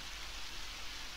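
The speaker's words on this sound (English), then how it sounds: "It's raining" Steady rain hiss falls in the video game Undertale, a dense, even wash of droplets with a low rumble underneath, continuous and alone for a brief moment.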